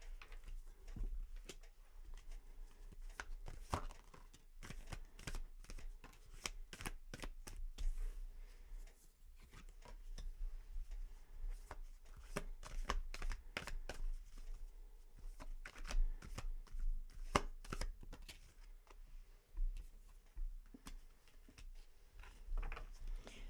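Tarot cards shuffled for a reading, a steady run of soft riffling and slapping flicks near the microphone, repeating in uneven bursts with short pauses between them, no voices.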